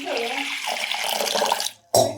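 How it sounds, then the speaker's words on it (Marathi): Water is poured over moong dal in a bowl to soak it, a steady splashing gush for almost two seconds that stops abruptly, followed by a brief clink. "आता हे ओतलं पाणी आता भिजवत ठेवणार आहे"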